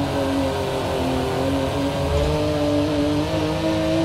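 Racing car engine in Forza Motorsport 7 driving through a tunnel, a steady loud droning hum with echoing reverberation, held at constant pitch throughout.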